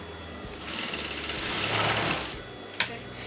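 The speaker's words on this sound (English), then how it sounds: "you're going to put a top stitch on this." A sewing machine top stitches a kurta neckline in one steady, close whirring run of about two and a half seconds. A faint click comes near the end.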